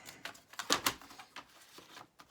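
Scissors snip through journal kit material at a marked line, a short run of quick, close, crisp cutting clicks.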